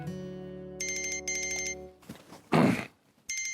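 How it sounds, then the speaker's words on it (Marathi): A phone rings with an incoming call in a Marathi drama scene, a bright repeating electronic ringtone in short bursts over a sustained low tone, then a brief louder rustle before the ring resumes. "घे, ताईचाच फोन आहे."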